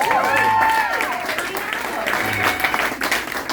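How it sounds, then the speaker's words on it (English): Comedy club audience applauding at a stand-up show, a loud, dense wash of clapping with some cheering that tapers slightly, while a voice is heard over it. "Let's give these guys a round of applause"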